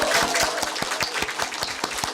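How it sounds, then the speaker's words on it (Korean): A church congregation gives standing applause to the choir conductor after a hymn: close, fairly loud clapping with a few sharp claps cutting through the steady patter. "자리에서 일어나시면 우리 더 큰 감사의 박수를 드리도록 하겠습니다."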